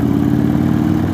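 Deep, steady rumble of an Indian Chief Dark Horse cruiser motorcycle engine fitted with a Stage 1 exhaust, heard while riding, a loud continuous low throb.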